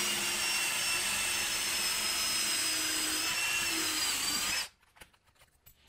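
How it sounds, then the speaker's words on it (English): A power drill bores a pilot hole through metal at a center-punched spot where two channels cross, made while shaping an oversized spoke. A loud, steady high-pitched whine runs unbroken for several seconds, then cuts off abruptly into faint clicks and handling noise. "drill it with the pilot drill."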